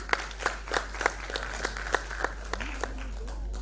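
An audience at the Maharashtra Ratna award ceremony in Pune claps in sparse, fairly even beats, with a voice speaking over the clapping.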